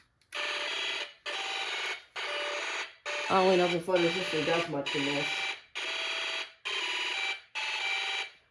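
Snap Circuits Extreme SC-750 alarm IC firing a laser-gun sound, a loud electronic buzzing burst repeating in a steady rhythm of about one per second, with someone talking over several of the bursts.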